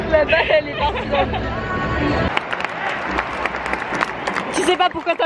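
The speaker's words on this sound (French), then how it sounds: "Tu sais pas pourquoi t'applaudis là." Crowd in the stands at an American baseball game breaking into scattered applause and cheering amid the general hubbub, with nearby people talking over the noise.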